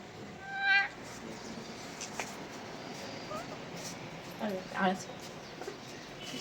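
A house cat meows on a cold morning as it waits for milk, giving two short, fairly clear calls about four seconds apart over a steady background hiss.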